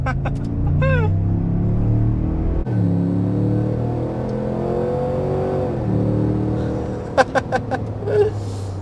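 A 2022 Cadillac Escalade Sport Platinum with a 6.2-litre 420 hp V8 launches from a stop, its loud engine roaring and rising steadily in pitch through the gears, with a brief shift dip and some tyre or chirp sounds near the end.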